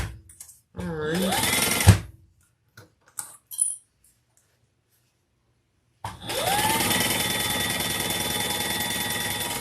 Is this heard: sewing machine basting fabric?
yes